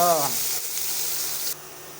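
Chopped tomatoes drop into a hot pan and fry with a steady bright sizzle that cuts off sharply near the end, after a brief voice at the start.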